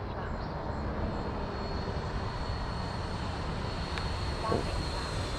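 A Freewing T-45 Goshawk 90mm radio-controlled jet flies past, its faint, distant ducted-fan whoosh holding steady, with a brief swell near the end.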